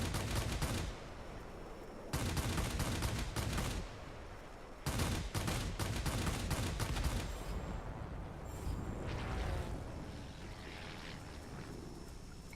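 Twin-fuselage Messerschmitt Bf.109Z heavy fighter fires its cannons in World of Warplanes, in long rapid bursts broken by short pauses, loud and close over a steady engine drone, with no talking.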